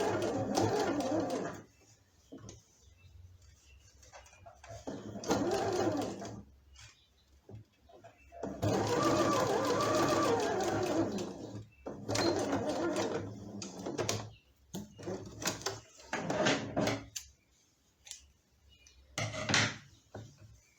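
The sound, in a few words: sewing machine stitching fabric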